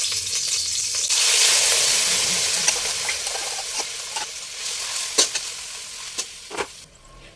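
Corned beef hitting a hot frying pan, a loud steady sizzle swelling at first and then easing, with scattered clinks and stirring scrapes near the end.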